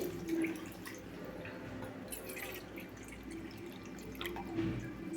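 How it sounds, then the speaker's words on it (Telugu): About a cup and a half of water is poured into a pan for gulab jamun syrup in a steady, quiet trickle, with a few small splashes and drips. "కప్పున్నర వాటర్ అయితే పోస్తున్నానండి"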